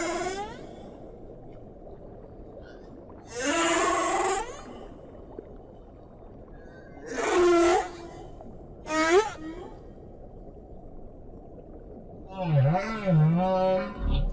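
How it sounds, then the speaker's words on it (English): A male humpback whale sings underwater, sending out several drawn-out moaning and rising tonal calls with pauses between them over a steady low background hiss. "The male humpback may sing for hours or even days."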